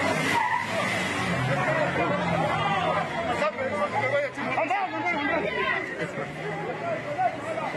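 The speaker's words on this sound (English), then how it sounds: "Let me give you natural sound as the convoy leaves." A motorcade convoy of cars carrying Prince Misuzulu drives away, engines and tyre noise rolling past under constant crowd chatter and babble at a fairly steady, close level.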